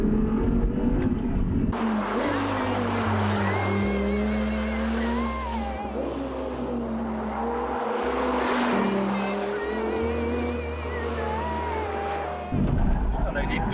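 A V10 race car engine on a track, heard from inside the car as a loud, sustained drone with shifting pitch and gear changes, and people talking over it.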